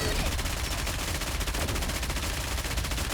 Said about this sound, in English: What is it shooting at us? Just lasers?